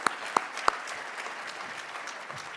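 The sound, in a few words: luncheon audience applauding themselves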